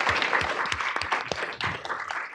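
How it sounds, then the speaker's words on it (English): Audience clapping for a research panel on decarbonization, with individual claps clearly distinguishable in an uneven, moderately close patter that thins slightly toward the end. "a round of applause."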